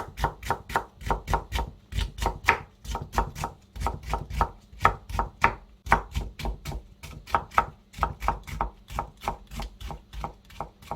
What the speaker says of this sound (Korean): 얇게 채를 썰어 볼게요.